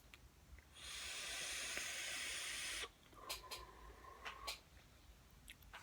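A long steady hiss of vapor as someone draws on a Coilart Azeroth e-cigarette atomizer with a top coil and airflow open a bit under half, followed by a few soft clicks and breaths, quiet and close.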